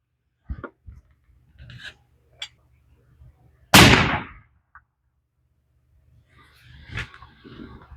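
A single loud, sharp rifle shot from a Savage 110 Timberline in .270 Win firing factory ammunition, standing out among quiet handling clicks and rustles, with a short decaying tail.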